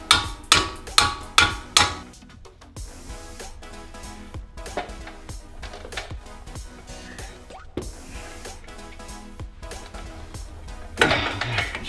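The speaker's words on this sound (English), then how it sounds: "I have to tap with the hammer" Five sharp metallic hammer taps on a brake caliper bolt of a 2017 Mini John Cooper Works in quick succession, then quieter clanks and mechanical rattling, with a final burst of louder noise.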